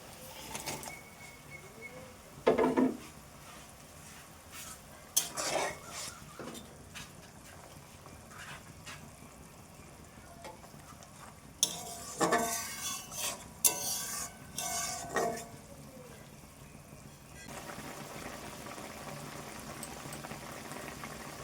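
Bata fish are added to boiling gravy in a pan. A quiet, steady bubbling runs throughout, broken by a few sharp splashes and utensil clinks.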